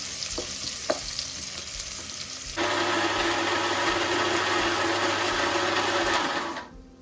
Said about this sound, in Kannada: ಆನಿಯನ್ ಫುಲ್ ಕಲರ್ ಚೇಂಜ್ ಆಗಬೇಕು, ಅಲ್ಲಿವರೆಗೂ ಚೆನ್ನಾಗಿ ಫ್ರೈ ಮಾಡ್ಕೊಳ್ಳಿ.